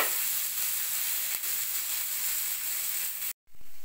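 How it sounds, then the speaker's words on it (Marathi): Onion frying with ginger-garlic paste in hot oil for dahi bhendi gives a steady bright sizzle throughout, cut by a brief silence near the end before the hiss resumes. "याच्यामध्ये आपण आता हे आले लसूण पेस्ट पण घालून घेणार आहोत आणि ह्या आता कांद्याला आपण थोडंसं ब्राऊन होऊ देणार आहोत"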